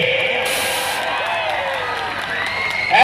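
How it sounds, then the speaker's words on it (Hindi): An audience at a public gathering applauds and cheers, a continuous crowd roar of clapping with a voice and tonal sounds carrying over it, ending in a short loud burst. "जोरदार तालियां बजाइए"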